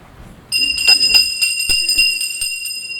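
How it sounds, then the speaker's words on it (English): A hand bell rings on a theatre stage, a bright sustained metallic tone struck several times in quick succession, close and loud, with a faint voice before it starts. "They don't hear, and my bell doesn't make enough noise."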